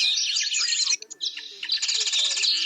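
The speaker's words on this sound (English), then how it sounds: "now boasting of rich biodiversity, including an endemic bird species only found in Mount Kulal" Birds chirp and sing in the Mount Kulal forest in Kenya, home to an endemic species. Dense, rapid trills and twittering calls carry on close and loud, with a brief lull midway before a quick repeated song takes over.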